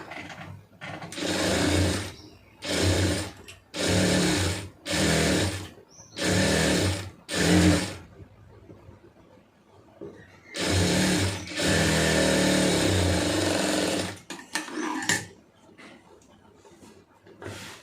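An electric sewing machine stitching a sleeve seam, running in a series of short bursts of rapid whirring, then pausing, then one longer continuous run, close and clear.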